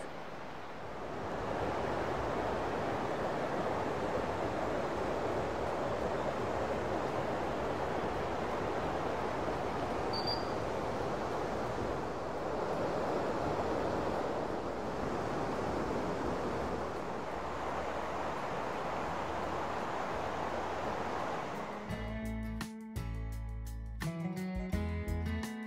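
Two rivers, the East Lyn and Hoar Oak Water, rush together at their confluence, a broad continuous roar of flowing water close by before a brief jumble of other noise at the end.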